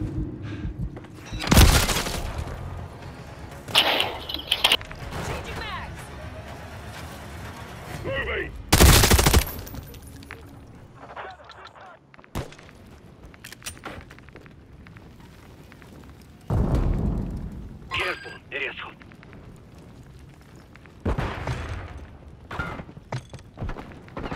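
Heavy gunfire from Call of Duty MW3 on PS5, with loud bursts of automatic fire and booming blasts in irregular clusters, separated by quieter stretches of distant shots and shouted voices.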